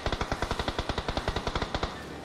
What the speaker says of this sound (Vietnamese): Ủa nó bắn người ta rồi, thấy tội không?